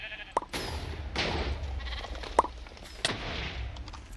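Sheep bleat in the video game Sheepwars, with a few short bleats spread over busy game noise and occasional bursts.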